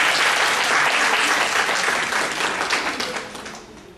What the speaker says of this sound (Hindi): जोरदार तालियों द्वारा धर्मेंद्र जी का स्वागत